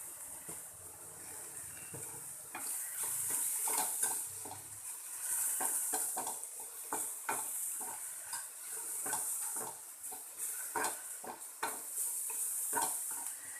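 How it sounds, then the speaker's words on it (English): Vegetables with masala are lightly sauteed in a pan for a veg cheese sandwich filling, a quiet sizzle under frequent stirring scrapes and light clinks of a spoon against the pan. "It's a very light saute. I'm not trying to cook any of the vegetables to a very large extent."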